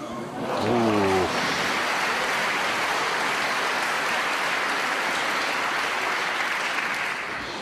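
A snooker crowd at the Paul Hunter Classic 2013 breaks into sustained applause, steady and fairly loud, after a brief voice at the start.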